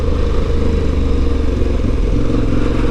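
An Aprilia Tuareg 660 adventure motorcycle on a trail ride drones loudly and steadily at close range, its mid-pitched engine holding an even note without pause.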